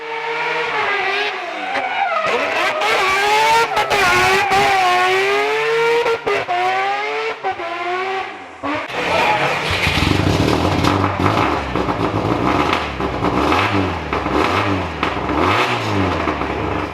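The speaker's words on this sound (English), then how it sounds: "thrashing his 3-rotor MX-5 up the hill" Mad Mike's three-rotor Mazda MX-5 thrashes up a hill climb, its loud rotary engine revving hard through rising and falling pitch sweeps, then a rougher, burbling roar with tire noise as it pulls away.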